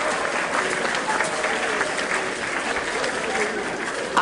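Live audience at a Hindi poetry reading breaks into steady, dense clapping that stays loud and continuous throughout, with a slight swell at the end.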